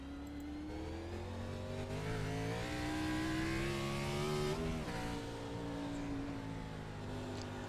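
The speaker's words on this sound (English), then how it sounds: "Just take a listen how he's working the throttle here." A race car driven by the number 81 of Mike Berg in a Pro Cup Series event, heard onboard as its engine screams under full throttle, pitch climbing and dipping with gear changes, loud and continuous.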